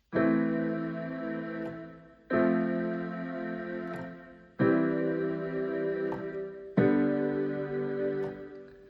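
Four sustained keyboard chords ring out one after another, each left to decay before the next is struck, the opening notes of a theme played alone with no talking.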